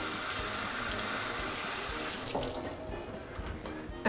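Hot water rushing steadily from a kitchen tap, a loud continuous splash that shifts and thins as a spoon is dipped under it.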